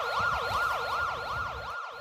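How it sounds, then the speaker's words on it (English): An electronic alarm siren wails in a steady, rapid up-and-down sweep, loud and continuous, cutting out briefly near the end with no talk over it. "Dang it, that's the alarm."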